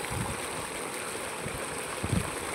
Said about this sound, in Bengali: একটা মেশিনের জল এখানে পড়ছে সুলিশের কাছে, আর একটা মেশিন এই যে বসানো হয়েছে, এখানে জল পড়ছে